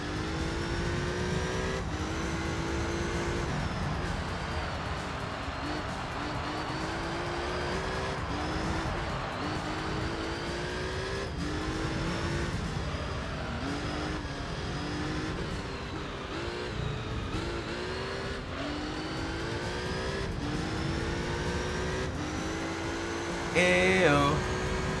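Race cars in Gran Turismo 3 run continuously, engines droning and revving through shifts with tire noise and a Lotus Elise being passed, steady and close throughout.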